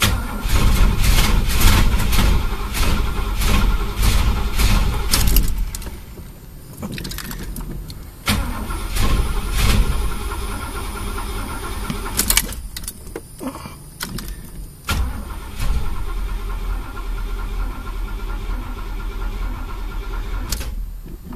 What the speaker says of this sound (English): try to get it started.